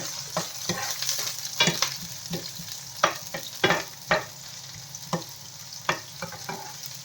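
Ginger and onion sautéing in a hot pan, a continuous sizzle broken by repeated stirring scrapes and spatula knocks at an uneven rhythm, close up with no talking.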